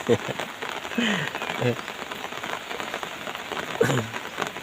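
Morning rain falls in a steady, even hiss, with a voice briefly humming or speaking in the background at a few moments.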